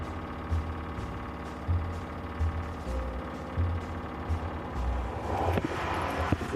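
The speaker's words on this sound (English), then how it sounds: "When I turn on the pump, it makes a very loud noise that's not what it used to make." Loud, abnormal pump noise from a broken-down truck stranded on the Alaska Highway, a steady droning hum with rhythmic low thumps that grows rougher and harsher near the end, with no talk over it.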